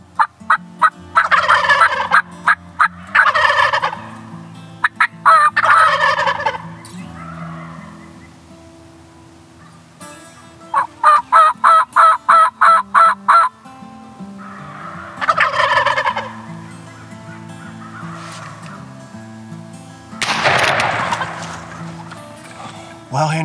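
A wild turkey gobbles loudly and repeatedly in spring woods, several rattling gobble bursts close by with pauses between, ending with a louder, broader noise.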